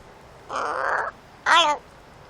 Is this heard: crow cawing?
yes